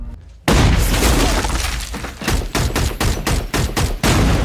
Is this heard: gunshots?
yes